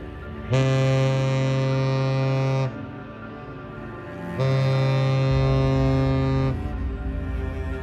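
A 1,000-foot diesel freighter, the Walter J. McCarthy Jr., powered by four 3,500-horsepower engines, sounds two long, loud, deep horn blasts near Sault Ste. Marie, each lasting about two seconds with a low hum between them.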